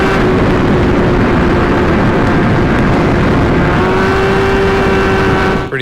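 A car at full throttle at about 180 mph, its engine holding a loud, steady high-speed drone with a constant whine and no break, dipping only at the very end.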